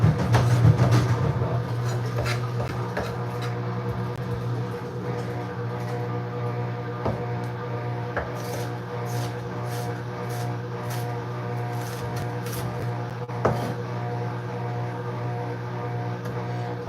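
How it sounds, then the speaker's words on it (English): A steady mechanical hum with a low drone and faint rattling, running continuously and fairly loud throughout, with an occasional soft knock. "my washing machine's over right there."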